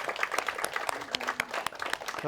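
An audience of students claps at a talk by a meditation master, a short burst of scattered, moderately faint handclaps with some faint voices underneath.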